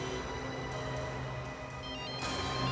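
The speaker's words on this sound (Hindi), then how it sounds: "लगता है उसका फोन आ गया" A phone rings with a steady electronic ringtone that carries on throughout at moderate volume, with no one speaking over it.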